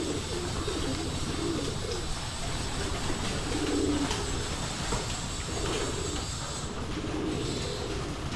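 Pigeons coo softly and repeatedly at feeding time, a low murmuring chorus under constant background noise, with no clear voices over it.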